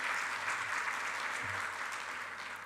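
A conference audience of accountants applauds steadily, a dense even wash of clapping from a large crowd that fades slightly toward the end.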